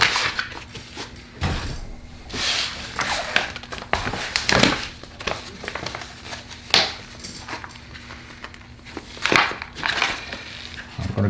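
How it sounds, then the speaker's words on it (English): Transfer tape pulled and laid over vinyl lettering on a pallet sign, producing loud crinkling, crackling and rubbing bursts at irregular intervals, close to the mic. "So we'll put some transfer tape on this."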